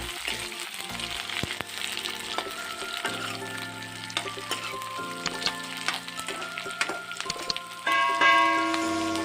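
Onion, bay leaves and whole garam masala fry in hot oil for a Punjabi chicken masala gravy, a steady close sizzle with occasional stirring clatter and a louder burst near the end, no talking.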